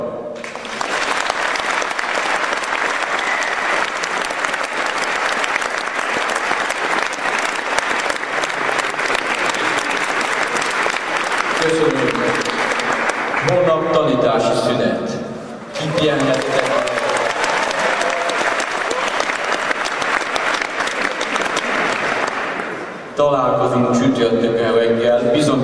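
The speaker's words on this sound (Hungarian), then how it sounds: "ezt köszöntsük tapson." A large crowd claps loudly and continuously at a Hungarian March 15 national day ceremony, the dense applause swelling for long stretches while a voice comes through in the brief gaps.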